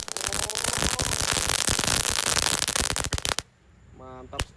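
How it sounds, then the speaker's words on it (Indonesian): A dino egg firecracker (mercon pretekan) sets off a dense, loud burst of rapid crackling pops that runs for about three seconds before stopping abruptly, leaving a brief quiet stretch with a faint tone and one final sharp pop. "Selanjutnya kita nyalakan mercon telur dino atau mercon pretekan."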